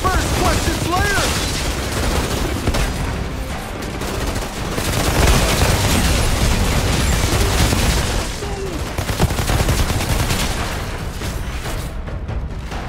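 Rapid bursts of automatic gunfire and booming blasts from the video game Outriders, loud and sustained through the whole stretch, with a voice briefly heard beneath the shooting.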